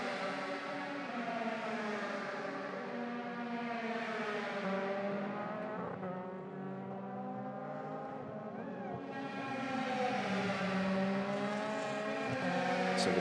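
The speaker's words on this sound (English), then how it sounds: "So Fiscal accelerates out of turn 5, down through turn 6" Euroformula Open race car accelerating out of a corner at the Barcelona circuit during qualifying, a high, steadily rising engine whine with gear changes, heard at a distance under faint commentary.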